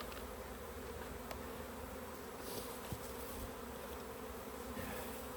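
Honeybees around an opened beehive that may be about to swarm make a dense steady buzzing hum, close and unbroken, with no voices.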